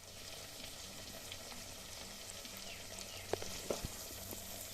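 Fish sizzling steadily in hot oil in a pan, a constant close crackling hiss with a few sharper pops and spits toward the end, no voices.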